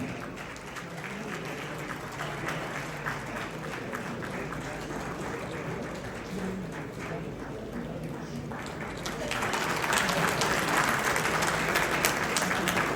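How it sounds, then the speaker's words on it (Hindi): Sustained crowd applause at a film festival honouring ceremony for a singer, a dense steady wash of clapping that swells louder toward the end. "तालियां बजती रही"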